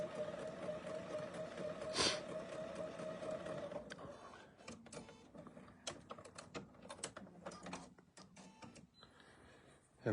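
A BERNINA sewing machine fitted with piping foot #38 stitches a hem, starting as a steady mechanical whir with a brief loud clack, then turning into quieter irregular ticking and clicking of the mechanism.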